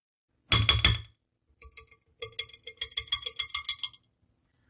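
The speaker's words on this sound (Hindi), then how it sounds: "अच्छे से हम इसको मिक्स करेंगे।" Spoon clinking against a glass or steel bowl while mixing flour, baking powder and cardamom powder for nankhatai, a quick burst of taps, a pause, then a longer run of rapid rhythmic clinks close by.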